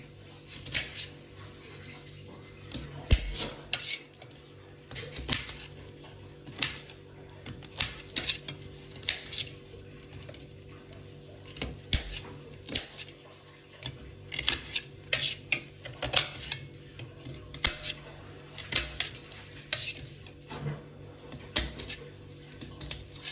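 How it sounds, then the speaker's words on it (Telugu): Spiny gourd (boda kakarakaya) being chopped into small pieces, with a steady run of sharp knife taps on a cutting board and light clinking, close and fairly loud with no talk. "బోడకాకరకాయలు ఇలా చిన్న చిన్న కట్ చేసుకోవాలి"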